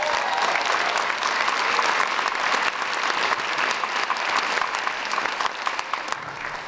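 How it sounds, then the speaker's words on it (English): Steady, dense applause fills a school auditorium after an elementary chorus performs at a winter concert, sustained throughout with no break. "Let's give them another round of applause."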